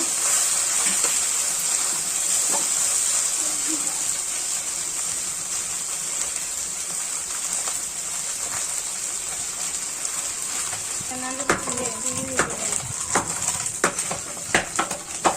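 Small morola fish fry in hot oil in a pan, a steady dense sizzle throughout, with spatula scrapes and clinks of the pan joining in the final few seconds.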